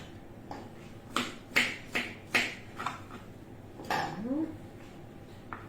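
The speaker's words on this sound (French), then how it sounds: "je vais commencer par les couper grossièrement quand même" Kitchen knife chopping cucumbers coarsely on a board: a run of sharp, separate cuts, some in quick pairs, then a short scraping sweep, close and moderately loud with no talk.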